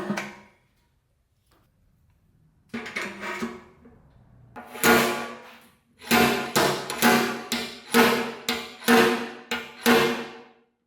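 A stud welder pulls a dent on the fuel tank of a GSXR 1000 motorcycle, a series of sharp, loud metallic snaps and clacks repeating in a quick, uneven rhythm close by, with no talk.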